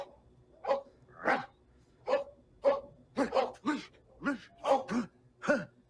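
A dog in the film Hook barks in a string of about ten short, evenly spaced woofs, fairly close and clear over a quiet background.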